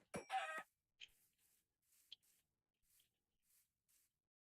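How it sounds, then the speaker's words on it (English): Chickens in the Minecraft video game, sounding as short, quiet clucks and squawks spaced out over a few seconds, following a brief louder burst at the start. "More chickens here."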